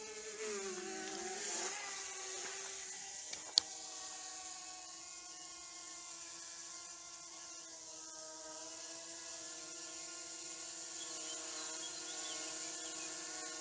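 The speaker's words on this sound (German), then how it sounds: "Da oben kommt die Drohne." A DJI Mavic Mini drone flying overhead, a faint steady whine with a buzzing tonal hum that holds constant throughout, heard from some distance outdoors.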